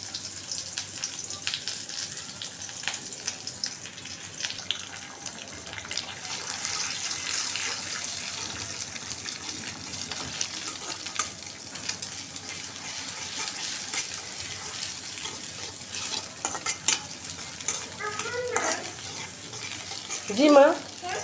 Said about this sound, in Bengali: 2টা কাঁচামরিচ ফেলে দিছি।